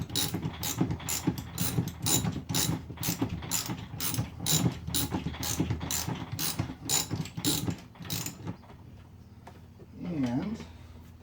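A ratchet tightens the rear axle on a Yamaha FZ6 motorcycle, giving loud, close, evenly spaced clicking strokes for about eight seconds before it stops and a low hum remains.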